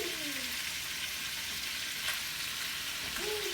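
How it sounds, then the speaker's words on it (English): Pork frying in oil in a pan, a steady broadband sizzle that holds constant throughout at close range, with a faint stir or scrape near the end. "the pork is in the pan. It is starting to sizzle and it's sounding really good"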